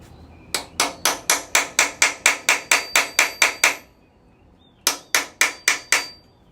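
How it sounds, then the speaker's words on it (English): A hammer drives a chisel to pop off a rear suspension part on a Chevrolet Bel Air during a RideTech StreetGRIP install: a fast run of about a dozen sharp metallic strikes, a short pause, then four more, close and loud. "Chisel popping this guy off of here."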